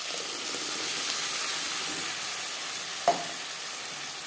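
Masala paste frying with onions in a pan, holding a steady hissing sizzle with one brief clink partway through.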